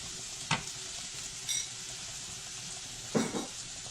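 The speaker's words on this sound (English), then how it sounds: "Make sure you keep on mixing it so it don't clump up too bad." A spoon stirs and scrapes a thickening mixture in a pot over a steady sizzling, bubbling background, with a few distinct scraping knocks.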